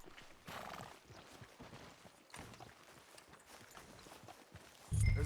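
Horse in the video game Red Dead Redemption 2, a faint neigh and clip-clopping hooves over soft ambient noise, with a louder thump at the very end.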